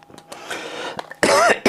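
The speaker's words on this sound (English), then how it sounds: "Sorry for the cough." A single person coughs twice, close and loud: a short burst followed by a harsher, longer cough and a quick final one, set against a faint background hum.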